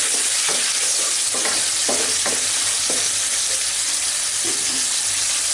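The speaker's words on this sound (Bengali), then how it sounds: "এখন আমি মশলাটা একবার নেড়ে দেব" Spice paste for a small-fish curry with lentil dumplings fries loudly in a pan, a thick constant sizzle broken by several scraping stirs of a spatula, close up and with no talking.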